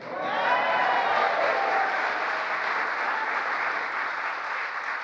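A crowd applauds at a presidential speech on the Inflation Reduction Act, a sustained roar of many clapping hands that swells early and holds steady, heard at some distance in a large hall.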